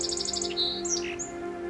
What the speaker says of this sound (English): The Song Sparrow is one of the most well-known native sparrows of North America.